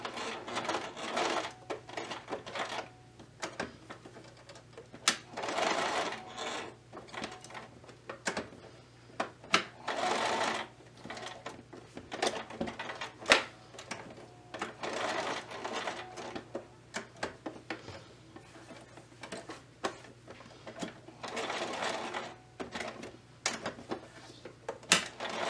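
Sewing machine stitching twill tape onto a towel apron, running in repeated short bursts of rapid needle clatter separated by pauses, close and fairly loud.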